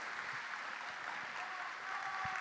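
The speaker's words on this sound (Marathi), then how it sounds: "आपण त्याचं पुन्हा एकदा जोरदार टाळ्या वाजवून कौतुक करूयात" Audience clapping in applause, a soft, distant patter of many hands at low level throughout, with faint background murmur.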